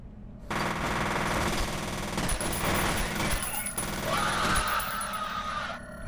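Rapid automatic gunfire from shooting an enemy in the first-person shooter F.E.A.R., sustained bursts over a dense game soundscape, fairly loud and continuous, with a brief sharp hit at the end.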